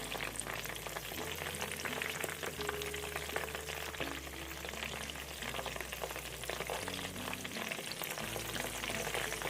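Vegetables for spring roll filling stir-fried in oil in a pan, a steady close sizzle and crackle with occasional scraping stirs throughout, no voices.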